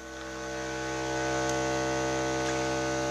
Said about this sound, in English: For our acoustic signal, we'll be using a 65 cycle per second sine wave.